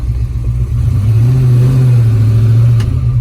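A 1970 Ford Boss 302 Mustang V8 rumbles close and loud, then rises into a rev and holds it before easing back, a deep throaty engine note with no talk over it.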